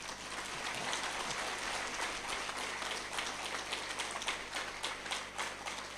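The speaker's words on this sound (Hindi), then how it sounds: "बजाओ, तालियां बजाते रह जाओ।" Audience applause at a spiritual discourse, dense steady clapping from a crowd sustained throughout, moderately distant and without talk.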